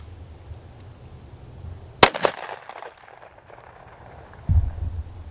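A gunshot fired at a marble body armor plate: one sharp, loud crack followed by a brief crumbling rattle. A low thump comes a couple of seconds later.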